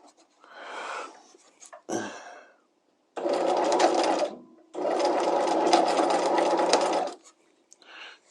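A sewing machine stitching a piped seam runs in two steady bursts of rapid stitching, with short handling noises and quiet pauses around them.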